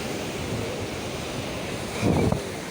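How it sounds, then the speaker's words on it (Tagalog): Stormy ocean waves roll and wash in near the shore as a typhoon approaches, with a steady surf roar, buffeting wind noise on the microphone and a louder surge toward the end. "baka tayo matabunan ng alon."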